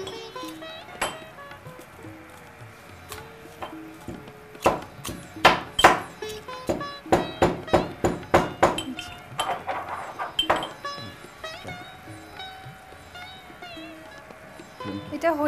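Jujubes (kul) being crushed for pickle give a run of sharp knocking, clinking strikes in quick rhythmic bursts after scattered taps, then fading into softer handling noises.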